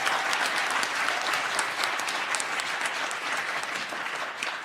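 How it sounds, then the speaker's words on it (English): An audience applauds a singer and sax player, a dense sustained wash of clapping from a crowd that holds steady and then slowly begins to thin toward the end. "let's give Jason an applause."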